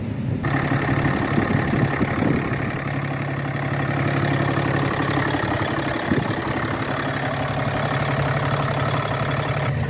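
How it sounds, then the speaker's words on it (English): A 2015 Dodge Ram 3500 Chinook motorhome engine idles at the exhaust, a loud, steady, close rumble that runs unbroken with no voices. "just a shot of the exhaust of the motor running."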